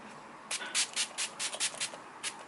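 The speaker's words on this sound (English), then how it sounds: "So I'm just using the Wet n Wild Photo Focus setting spray" A series of short, breathy spray bursts from a Wet n Wild Photo Focus setting spray misting onto a face, about nine quick pumps in an uneven rhythm, close by with a quiet background.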